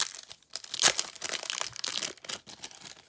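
Wrappers on 1991 NFL football card packs crinkle and tear up close, a busy run of crackling rustles with one sharp rip early on, no voices.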